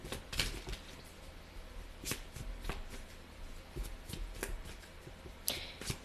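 A deck of tarot cards being shuffled close up, soft riffling and flicking with sharper card snaps at irregular intervals, quiet and continuous without talk.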